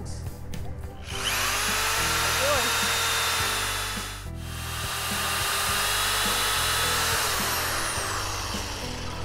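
Power drill boring a sap tap hole into a tree trunk, a loud sustained whine with a short pause midway and slight shifts in pitch as the bit cuts into the wood, heard close up.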